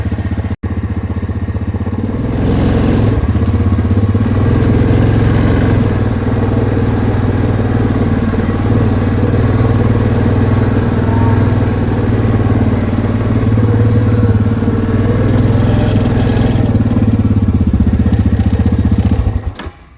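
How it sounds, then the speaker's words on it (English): A four-wheeler ATV engine starts after a brief cutout and runs at a loud, steady idle-like rumble close by before shutting off abruptly at the end, with no talking. "You get the turning off and on of the four-wheeler."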